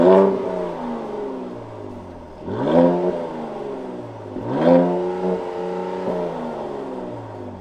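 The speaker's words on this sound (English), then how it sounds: "Listen to this engine." A 2022 Mercedes C43 AMG engine revs up three times, each rise sweeping up sharply then falling back to a throaty idle, loud and close with no talking.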